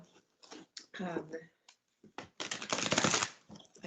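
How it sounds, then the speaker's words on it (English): An oversized deck of tarot cards is shuffled by hand in close, crisp riffles and taps that build to a dense, loud burst near the end, with someone talking softly between the shuffles. "I'm still broadening my hands enough to shuffle this really big deck"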